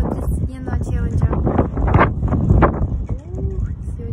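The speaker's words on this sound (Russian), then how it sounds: "Сегодня так ветрено." Outdoor wind buffets the microphone in steady rumbling gusts under a voice talking throughout.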